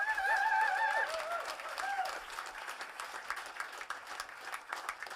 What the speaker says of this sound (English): please give all the volunteers a huge round of applause